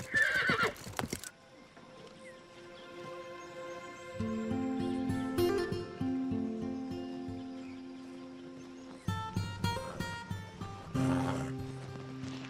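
Horses whinny loudly in several bursts, their neighs rising and falling, while hooves clip-clop in rhythmic steps beneath, fading into quieter stretches between the calls.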